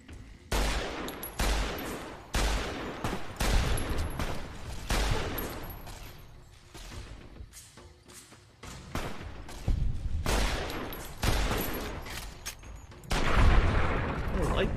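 Bursts of rapid gunfire in a video game, several loud volleys separated by brief pauses, with game sound effects between them.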